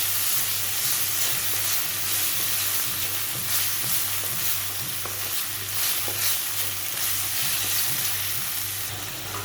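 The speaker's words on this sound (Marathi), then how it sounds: "आता त्यामध्ये घालणार बारीक चिरलेला टोमॅटो. तोही बऱ्यापैकी आपण परतून घ्यायचा." Finely chopped tomato fries in a pan, a loud continuous close-up sizzle and hiss with a low steady hum underneath.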